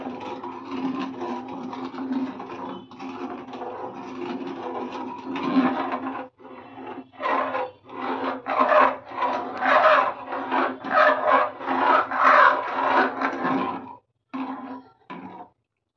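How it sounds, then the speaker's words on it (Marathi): Spoon stirring milk in a pot as sugar is added for Indian rice pudding, a continuous scraping rasp that turns into rapid rhythmic strokes, close and fairly loud with no talk. "साखर टाकतानाच दूध ढवळत राहायचं आपलं, त्यामुळे गाठी होत नाही"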